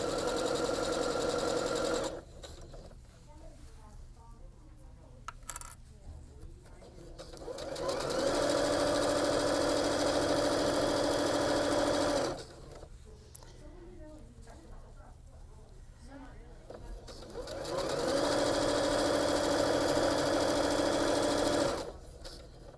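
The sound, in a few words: sewing machine stitching fabric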